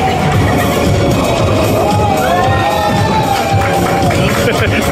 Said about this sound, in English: They're cheering.